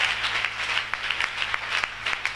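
Church congregation applauding during a worship service, loud sustained clapping from many hands with sharper individual claps standing out, filling the hall.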